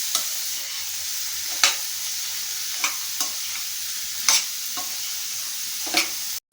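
Native budamakaya curry being stirred in a sizzling pan, about six distinct spoon scrapes over a steady, hissing fry, with no talking.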